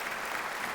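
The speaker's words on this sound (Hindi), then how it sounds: "जोरदार तालियों से" Steady crowd applause at a Hindu community charity gathering, a dense continuous wash of clapping hands filling the whole short moment with no voices over it.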